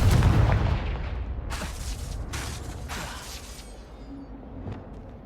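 A Confringo blasting spell explodes in the Hogwarts Legacy video game: a loud, heavy boom opens, followed by several sharp crackling bursts that gradually fade.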